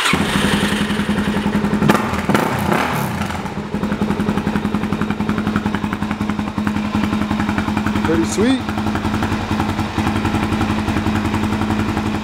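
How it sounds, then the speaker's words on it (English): A white 2008 Suzuki DR-Z400SM motorcycle engine fires up nearby and settles into a loud, slightly choppy single-cylinder idle that runs steadily throughout, with someone briefly speaking over it. "I'll get the bike started up."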